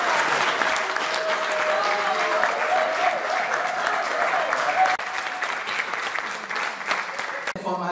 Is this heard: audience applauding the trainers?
yes